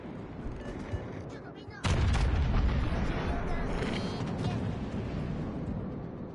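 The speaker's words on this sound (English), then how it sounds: "Someone's shooting at Kleber." A heavy naval gun salvo from World of Warships Legends booms suddenly after a quieter stretch, followed by a rumbling, crackling tail of fire and explosions that stays loud for several seconds.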